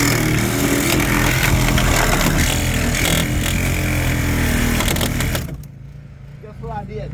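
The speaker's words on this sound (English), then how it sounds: "I can take this roof off faster with this Sawzall than any of y'all can take it off of that hydraulic tool" A Sawzall reciprocating saw cuts through a car roof during vehicle extrication training: a loud, harsh, continuous buzzing rasp runs steadily for about five seconds, then cuts off, leaving quieter background noise.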